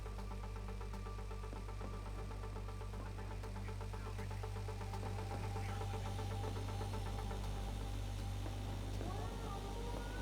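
Car engine in the MindsEye video game, a steady low mid-pitched hum of driving at moderate speed that drones on evenly throughout, with faint game effects layered on top.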